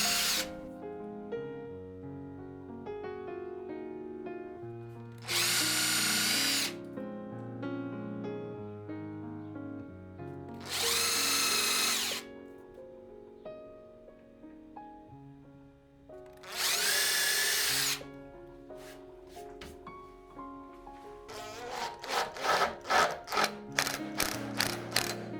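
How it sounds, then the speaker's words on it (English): Power drill with an angled bit driving screws into walnut legs of a record stand, three loud whirring bursts a few seconds apart, then a quick series of short ratcheting pulses near the end, over quiet background music. "This helped me give the perfect angle for drilling in the screws."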